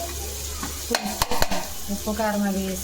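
Onions frying in a pan for a village-style fish curry, a steady close sizzle with stirring and a few clanks of a spoon against the pan midway, while a person talks over the cooking.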